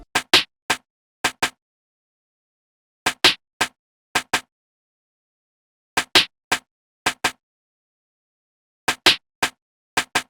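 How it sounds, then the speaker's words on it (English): Sharp, dry percussion hits arrive in short clustered bursts separated by silence, a crisp snare and a smaller percussive click repeating in a bouncy pattern. "And a snare and a perk to add even more bounce."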